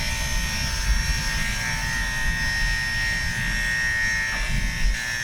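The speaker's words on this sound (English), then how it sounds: "pull the top of the comb out before I slide the clipper across" An electric hair clipper buzzes steadily at close range while cutting hair with the clipper-over-comb technique in a barber setting, a constant high whine with faint movement noises and no clear talking.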